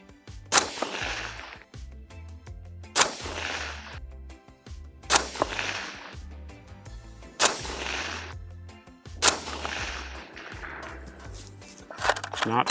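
A PSA JAKL rifle fires Remington 45 grain .223 jacketed hollow points outdoors: five loud single shots spaced a couple of seconds apart, each with a sharp crack and lingering decay.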